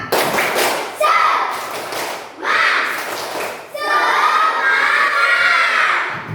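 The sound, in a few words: children doing the tepuk semangat clapping chant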